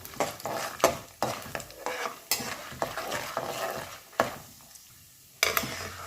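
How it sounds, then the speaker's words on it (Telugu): Lentils for a tempering frying on a low flame, a soft continuous sizzle punctuated by sharp spoon-on-pan scrapes and taps at irregular intervals, close and clear with no voices. "ఇవి సిమ్లో పెట్టుకొని ఎర్రగా వేయించుకోవాలి పప్పులన్నీ"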